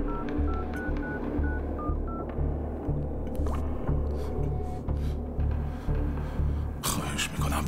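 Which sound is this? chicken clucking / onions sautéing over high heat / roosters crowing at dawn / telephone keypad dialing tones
telephone keypad dialing tones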